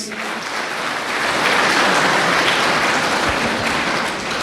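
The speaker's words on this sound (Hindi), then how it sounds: "ताली बजाएं इनके लिए प्लीज।" A crowd applauds at a motivational talk for police battalion personnel, dense continuous clapping holding steady and loud throughout with no one speaking over it.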